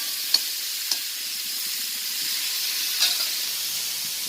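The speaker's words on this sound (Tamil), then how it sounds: "இந்த வானலில் கடுகு வெந்தயம் நல்லா பொரியட்டும்" Mustard seeds and fenugreek spluttering in hot oil in a pan: a steady close sizzle with a few sharp pops scattered through it, no voices.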